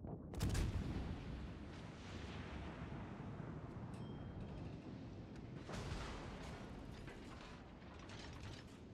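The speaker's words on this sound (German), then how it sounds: "Da schießt auch schon das erste Schlachtschiff auf uns." Battleship artillery fire in the naval game World of Warships Legends: a loud opening boom near the start, then sustained rumbling and mechanical clatter with a second burst of firing around the middle, no talking.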